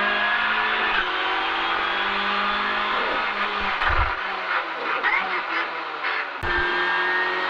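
A Renault Clio Rally5 rally car engine revs and accelerates hard out of a bend, rising in pitch with a brief gear-change dip, loud and close throughout.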